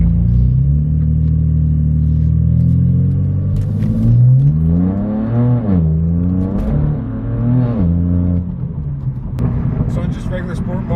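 Straight-piped BMW M4 F82 in sport mode, its exhaust droning loud and close, then climbing through several sharp revs with wavering pitch before settling back to a rumbling idle.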